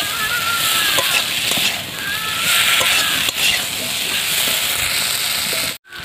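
Fried bitter gourd pieces go into hot oil in a pan, giving a loud, continuous sizzle and hiss that holds steady before dipping briefly near the end.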